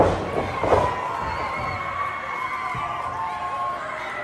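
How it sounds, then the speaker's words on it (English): A wrestling crowd at an AIWF ringside event cheers and shouts in a hall, a broad roar with a louder burst near the start that settles into a sustained, moderately loud wash of voices. "Listen to the crowd."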